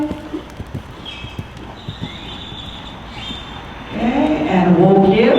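Horse cantering in a dressage lesson, a light rhythmic clip-clop of hooves in an arena, with a voice speaking over it toward the end.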